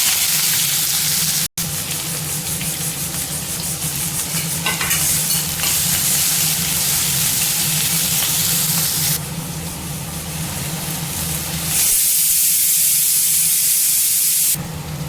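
Chopped onions hit hot oil already crackling with fennel seeds and a cinnamon stick for a jackfruit-seed kootu, giving a loud, steady sizzle with stirring scrapes and brief bursts of spattering throughout, and no talking.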